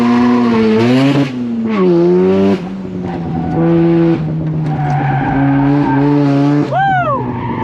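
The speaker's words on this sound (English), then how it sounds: "I can just kind of like four-wheel slide, just pick which wheels I want to slide" A rotary-engined Mazda FD RX-7 slides through corners on a hot lap. Its tires give loud, wavering squeals in long repeated bursts over the buzzing engine note, ending in a rising screech.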